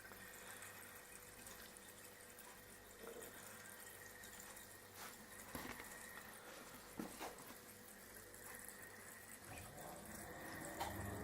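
Home-brewed Coopers lager poured slowly from a tap into a bottle, a quiet, continuous trickle and gurgle of liquid with faint splashes as the bottle fills.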